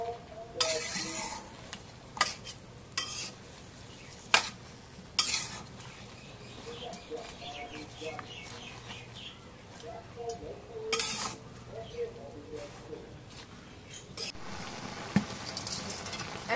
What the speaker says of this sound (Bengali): নাড়া দিয়ে দিই